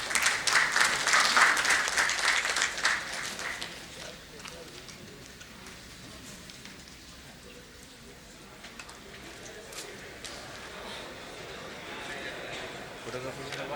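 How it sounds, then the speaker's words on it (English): An audience applauds two presenters at the close of a corporate session on AI in credit underwriting. The clapping is dense and loud for about four seconds, then thins into quieter room murmur. "Can we have a huge round of applause for both of them?"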